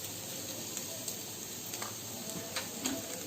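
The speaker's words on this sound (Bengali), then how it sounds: "এটা আমি কিছুক্ষণের জন্য এখন একটু ভাজি" Potato pieces frying in a pan for a vegetable curry, a soft continuous sizzle with occasional light clicks and taps from stirring, no talking.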